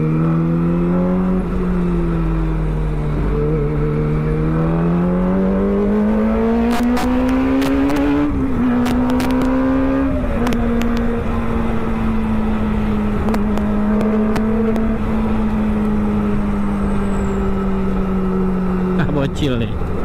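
A Kawasaki ZX25R motorcycle engine drones and rises in pitch through several revs, loud and steady under a continuous motor hum, with bursts of crackling noise partway through.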